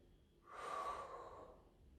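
A single slow, soft exhale during a surf mobility stretch. It is a breathy rush of air that swells and tapers over about a second, close and quiet, with no talking.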